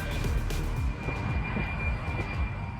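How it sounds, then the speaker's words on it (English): A China Airlines Boeing 747 freighter departing Chicago O'Hare gives off a loud, continuous low roar and rumble of jet engines, heard from a distance on the ground with no voices. "I happened to catch that China Airlines 747 departing, bound for Taipei via Anchorage"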